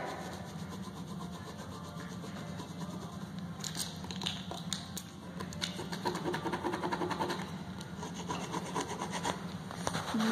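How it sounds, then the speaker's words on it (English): Fingernail scraping dried spaghetti sauce off an unsealed stone surface, a close rough rubbing and scratching in short strokes that grows busier toward the end, with no talking. "Just using my fingernail a little bit to scrape it up."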